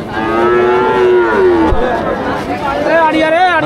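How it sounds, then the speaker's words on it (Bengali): Calves moo loudly and repeatedly at a busy cattle market, drawn-out bellows rising over a constant crowd babble and nearby chatter. "বাছুর দিয়ে এইদিকে একদম ভরপুর আছে"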